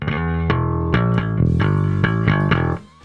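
A processed electric bass played through a HeadRush into a Darkglass Microtubes 900 runs a steady line of plucked notes, loud and up front with a slightly effected, chorus-like tone, stopping abruptly near the end.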